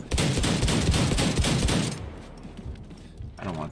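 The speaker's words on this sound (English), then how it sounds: "shotgun" Gunfire in Wolfenstein II rattles off as a dense, loud burst of rapid shots for about two seconds, then drops to quieter game ambience with a short voice at the end.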